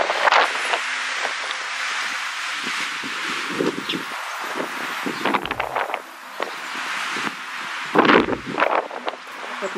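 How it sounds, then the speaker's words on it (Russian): Strong wind roars steadily outdoors in France, buffeting the microphone with rustling gusts that rise and fall throughout. "Ветер какой-то, просто смерть."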